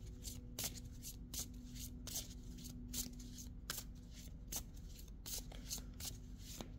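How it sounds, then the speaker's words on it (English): Angel answers oracle cards are shuffled in a quiet room, producing a continuous close riffle of soft rapid flicks and taps with no talking. "Now we're going to take the angel answers card and pick a clarifying card for these two options."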